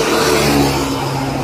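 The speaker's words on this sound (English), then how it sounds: "I see a lot of cars there." Steady engine drone of cars moving along a road, with a revving note and low rumble holding close and continuous through the whole moment, no talk.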